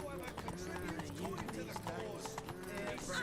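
Horse galloping in The Witcher video game, rapid rhythmic hoofbeats running continuously and closely under overlapping talk.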